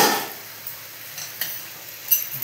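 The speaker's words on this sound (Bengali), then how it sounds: "আবার বেশ করে কষতে হবে।" Vegetables for Bengali dudh shukto being stirred and fried in a pan: a soft sizzle that fades after a brief louder start, with a few light scraping clicks of the spatula against the pan, no voices.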